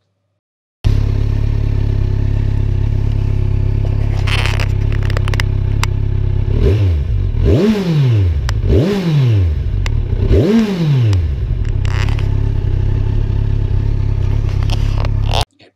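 A Kawasaki Z1000SX 2017 four-cylinder, 142-horsepower motorcycle engine idles, then revs sharply three times in quick succession, each rise and fall loud and close, before settling back to a steady idle.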